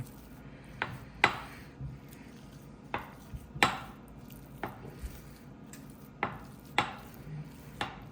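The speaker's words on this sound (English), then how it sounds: "make an attempt to mix it all together before you start going in and adding milk" Sugar-free chocolate chip cookie dough from a Lakanto mix is worked in a bowl, giving sharp knocks and scrapes about every half second against a soft background, with no talking.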